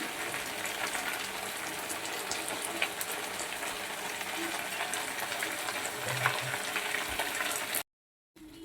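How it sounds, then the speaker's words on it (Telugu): Curry leaves fry in hot oil in a pan, giving a dense, steady sizzle and crackle that goes on throughout, close and fairly loud. It stops sharply near the end. "చూసారా ఎంత బాగా వేగిందో."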